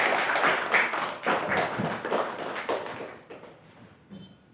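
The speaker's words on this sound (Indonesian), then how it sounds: "kita beri aplaus untuk semua" A classroom of students applauds together, a moderately loud burst of clapping that gradually thins and fades out over a few seconds.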